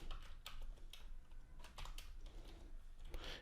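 Fingers type code on a computer keyboard in a quick, continuous patter of key clicks, close and fairly soft.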